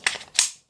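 A Glock Gen 4 magazine drops out and lands on a computer keyboard, two quick close clatters of plastic on keys, sharp and brief, with nobody speaking.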